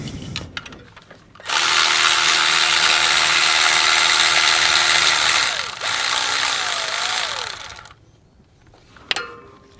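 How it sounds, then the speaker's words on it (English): A ratchet backs bolts off the fuel injection pump on a GM 6.5L diesel engine, giving a loud, steady clicking whir for several seconds that pauses briefly and then resumes before stopping. "And then we'll come over here and ratchet them off."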